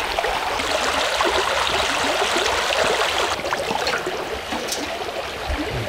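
A small countryside stream flows steadily over stones, giving a continuous close, broad rushing and trickling wash with no voices.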